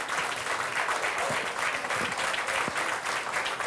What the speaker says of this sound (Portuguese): É um aplauso para mim!